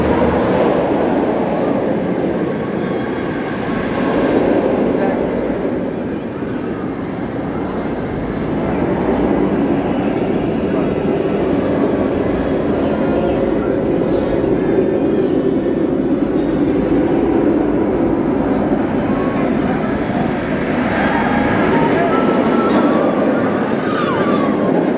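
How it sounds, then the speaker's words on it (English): The Afterburn roller coaster train at Carowinds climbs its lift hill, a steady loud mechanical rumble and rattle that continues for the whole stretch, with faint crowd background. "Over here we have Afterburn. It's actually going up the lift right now."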